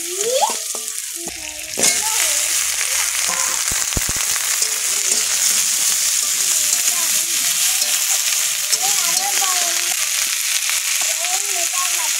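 Chillies fry in a pan for an egg and okra dish, a constant bright sizzle after a sudden burst at the start, with a few utensil knocks and voices talking over it.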